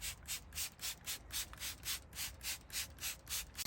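Cordless drill spinning a bristle brush attachment scrubs soaked carpet, giving a steady run of rhythmic rubbing strokes, about three per second, close up and loud with no voices.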